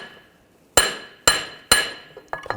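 A hammer strikes a large punch to pop out the front right CV axle of a 2009-2017 Volkswagen Tiguan 2.0L I4, three sharp metallic taps and a lighter fourth, close and alone.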